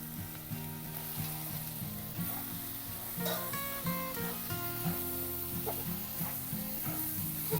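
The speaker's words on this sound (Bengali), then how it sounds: "মশলাটা ভালো করে কষে নিয়েছি এইবার সোয়াবিনগুলো দিয়ে দেবো" Soya chunks go into a pan of spice masala that is sizzling steadily in oil, a close, fairly soft frying crackle with occasional stirring clinks from utensils and no voices.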